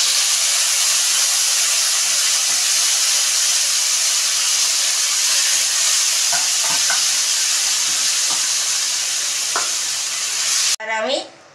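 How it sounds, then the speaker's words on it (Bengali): Tempering spices for South Indian sambhar sizzle loudly and steadily in hot oil, a dense close hiss with a few sharp crackles. Near the end the sizzling suddenly drops away and a brief voice is heard. "দেখো এবার আমি এর মধ্যে ফোড়নে দিয়ে দিই"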